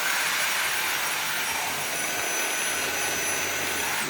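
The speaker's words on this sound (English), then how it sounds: "This is a small sweeper, vacuum cleaner, like the one in your house." Small cordless household vacuum cleaner sweeper running with its brush spinning, a steady, close, high-pitched whine and whoosh that holds evenly throughout with no talking.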